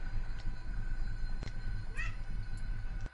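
A ginger cat gives one short meow indoors, faint and fairly distant, over a low constant hum and a few faint clicks.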